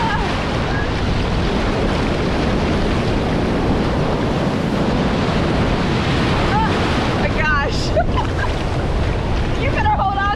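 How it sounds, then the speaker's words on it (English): Strong wind roars across the microphone at a Cancun beach while rough ocean waves crash steadily, loud and continuous throughout, with brief faint voices near the end. "I don't know how often it's this windy in Cancun."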